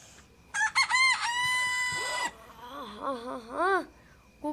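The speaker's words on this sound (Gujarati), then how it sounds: "હા કુકડો બોલ્યો" A rooster crows loudly and close by, a long harmonic call followed by a wavering second crow, with brief clucks in a quiet indoor comedy setting.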